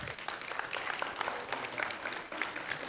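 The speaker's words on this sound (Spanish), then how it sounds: "Un aplauso al Gio." A church congregation breaks into applause, a fairly soft but continuous patter of many hands clapping at once, heard from a little distance with no talk over it.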